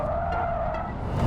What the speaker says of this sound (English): You can pull spectacularly long drifts in this thing.